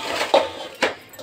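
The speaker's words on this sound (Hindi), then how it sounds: "अब ये हम एक मिक्सर का जार ले रहे हैं" A mixer grinder jar is picked up and set down in a home kitchen, giving two short hard knocks of plastic or metal against a surface over faint room noise.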